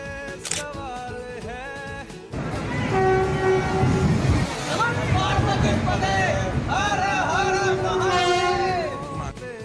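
A train sounds its horn repeatedly, with rumbling carriages beneath, at a busy Indian railway station on the way to NJP, amid crowd chatter and nearby voices.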